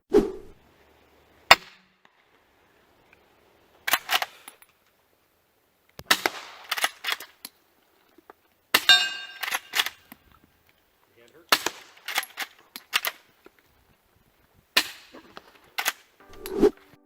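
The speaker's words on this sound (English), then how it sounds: "threw the suppressor on, and sent that first round downrange" A suppressed DeFile carbine, a modified K98k rifle, fires at a gravel pit. Sharp, muffled cracks come one at a time or in short clusters, separated by stretches of quiet outdoor air.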